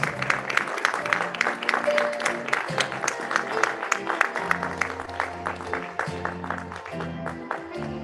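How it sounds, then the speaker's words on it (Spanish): Warm applause for a student called to the stage at a 2021 school graduation ceremony, steady clapping from the audience running throughout with music playing underneath. "brindándole un caluroso aplauso al estudiante Patricio Andrés Torres"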